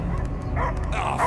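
Dogs bark in the Marvel's Guardians of the Galaxy video game, with short, muffled yips and barks sitting under a dense, steady game soundscape.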